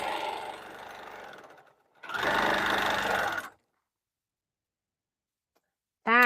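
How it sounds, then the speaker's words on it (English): A sewing machine quilting runs in two steady whirring bursts, close and loud, separated by a short pause, followed by a long stretch of silence before a voice cuts in at the end. "I'll finish quilting before I get off."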